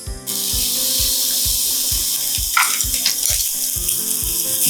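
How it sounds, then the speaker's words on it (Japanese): Green peppers hit a hot pan still greased from seared sirloin and sizzle at once into a loud, steady hiss for stir-frying, running continuously under a low rhythmic pulse. "まずピーマンを炒めます。"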